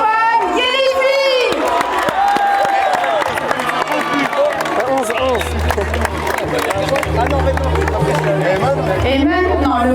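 At a school football tournament prize ceremony, a crowd of students claps, cheers and shouts loudly for the top scorer, with a PA voice speaking and chatter and whoops layered over the noise.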